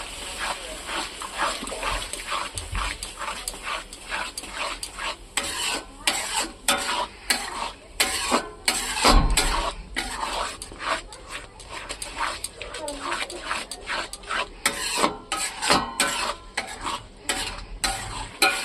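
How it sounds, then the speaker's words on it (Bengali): Spice paste with cashew and poppy seed paste stirred and fried in a pan, a steady scraping stir with soft sizzling running through, close and continuous, with a dog's bark and whimper at moments and talk over it. "দেখো মশলা কত সুন্দর কষাচ্ছি আমি, দেখো মশলার থেকে তেল ছাড়াচ্ছে।"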